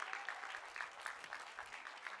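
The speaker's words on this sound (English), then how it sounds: "Give yourselves a big round of applause." Audience members at a corporate gathering clap together in a fairly steady rhythm, with regular bursts of hand claps heard at a modest, somewhat distant level.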